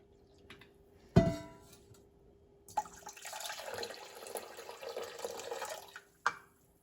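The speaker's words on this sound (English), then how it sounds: "And then we're just going to slowly just add in the water" Lukewarm water being slowly poured into a bowl of pizza dough mix, a soft steady trickle lasting a few seconds after a brief clatter, fairly faint and without talk.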